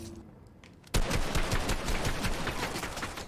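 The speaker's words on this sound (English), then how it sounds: "We exchanged shots there." Rapid gunfire in a Fortnite firefight erupts suddenly after a quiet moment, a dense, loud burst of overlapping shots that keeps rattling on with no voices.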